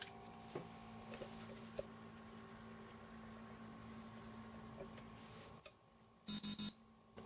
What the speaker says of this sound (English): So your PS3 should have beeped 3 times, and the screen should turn black